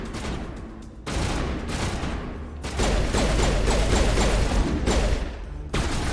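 Gunfire in Mass Effect Legendary Edition: dense, loud bursts of rapid shots that start, pause briefly and resume in heavier volleys, filling the whole stretch.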